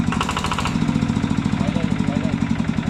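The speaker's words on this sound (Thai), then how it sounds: "เดี๋ยวมาฟังเสียงกันนะครับ ยันมา TF 150 NL สิเอล นะครับผม" A Yanmar TF150NL single-cylinder diesel engine runs with a steady, rapid knocking thump, loud and close, its regular beat holding throughout with no talk over it.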